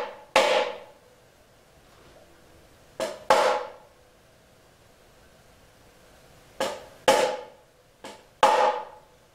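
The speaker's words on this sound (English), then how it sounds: "we want to take our hammer, and anywhere where we see a high spot," A hammer taps down high frets on an electric guitar neck during a fret install, giving about seven sharp, close metallic knocks in loose pairs and singles with quiet pauses between them.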